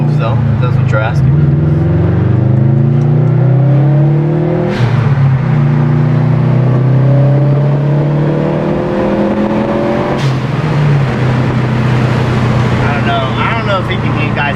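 A Subaru WRX STI with a Greddy blow-off valve revving hard, its engine note sweeping up and down in steady rising harmonics with brief whooshing releases, loud and close throughout.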